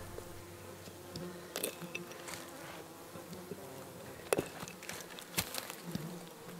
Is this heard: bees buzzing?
yes